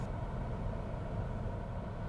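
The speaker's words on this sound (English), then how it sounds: "No gas, and the revs have dropped down to tick over." A manual car creeping along at tick over in second gear without throttle, a low steady engine hum with road noise, quiet and continuous with no talking.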